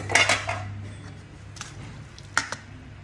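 Spoons and dishes clink during a home meal of a spicy minced fish salad, with a cluster of close metallic clatters at the start and a few sharp taps near the end, and no talk.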